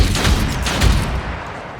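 Gunshot from the Othercide video game: a loud, close blast over a dense rumbling bed, a second heavy hit close behind it, then the noise tails off.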